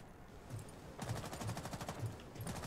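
Rapid bursts of automatic gunfire in the video game Rainbow Six Siege rattle at a distance, a fast steady rhythm with short pauses between volleys.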